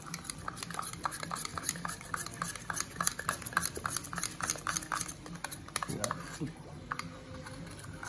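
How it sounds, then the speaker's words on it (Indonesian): Screen printing emulsion being stirred until evenly mixed, heard as quiet, irregular scraping and tapping clicks of a tool against a container, with a voice talking softly at times. "Terus kemudian kita aduk ya sampai rata ya kawan-kawan"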